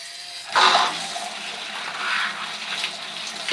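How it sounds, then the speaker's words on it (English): Water rushing and splashing steadily while hair is rinsed on wash day, a broad close gush starting abruptly and running continuously with slight swells. "Okay, now we can rinse."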